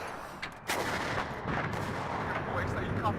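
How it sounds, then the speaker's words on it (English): Mortar artillery fire in the WARNO real-time strategy game: a sharp blast lands early, followed by a sustained rumbling barrage with repeated thuds and crackling impacts, loud and fairly close throughout. "I need the mortars again."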